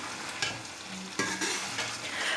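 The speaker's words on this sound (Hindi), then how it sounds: "मिक्स करेंगे।" Boiled potatoes being stirred with crushed kasuri methi in a pan while cooking aloo moongray, giving a soft continuous scraping with a few sharper utensil knocks and a light sizzle underneath, close by and without talk.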